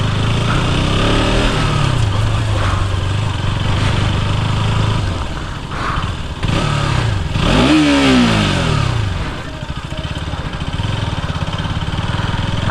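A 2022 KTM RC 200 motorcycle's engine drones and revs continuously up close during an off-road ride in Kolkata, with rising and falling pitch as the throttle opens and eases.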